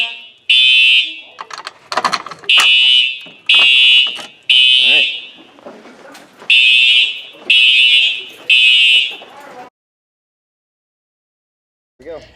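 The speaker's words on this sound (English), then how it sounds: "If you said a fire alarm" Fire alarm bell ringing loud and near in six repeated bursts of roughly a second each, separated by short gaps, with some faint background noise between them before the sound cuts off into silence.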